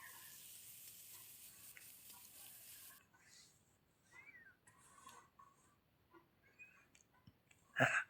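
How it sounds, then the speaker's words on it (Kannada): Tomatoes fry over a high flame in a pan and are stirred, giving a steady close sizzling hiss for a few seconds. Quieter scattered clicks follow, then a sharp utensil knock at the end. "ಟೊಮಾಟೊಗೆ ಸ್ವಲ್ಪ ಉಪ್ಪು ಹಾಕಿ ಕೈ ಆಡಿಸಿ."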